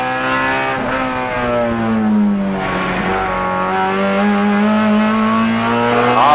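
Honda race cars in a NASA Honda Challenge championship race scream past at high revs, engine notes climbing and falling in pitch as they shift and pass through traffic, loud and continuous with no voices.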